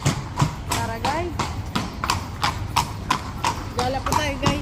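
Horse hooves clip-clop on a street in Seville, a steady, close, evenly spaced clatter of sharp hoof strikes with a voice speaking over it.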